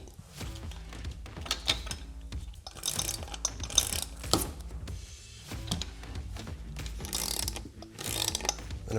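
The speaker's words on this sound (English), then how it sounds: "You get a couple of spins using a ratchet or something like that with a 1/2 inch socket on it." A ratchet with a 1/2 inch socket clicks in quick repeated bursts while tightening bolts for a ladder rack on a Ford Transit, close and fairly quiet, with short pauses and occasional thunks.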